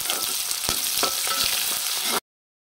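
Mustard seeds crackle and sizzle in hot oil as tempering for jackfruit kootu, a continuous close hiss with scattered pops and clicks that cuts off abruptly.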